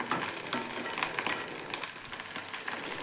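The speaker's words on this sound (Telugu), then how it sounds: "అదే గిన్నెలో 1 కప్పు ఆయిల్ వేసి కొత్తిమీరను బాగా వేయించాలి" Coriander leaves fry in about a cup of oil in a pot, giving a steady crackling sizzle with brief stirring scrapes, close and moderately loud throughout with no talking.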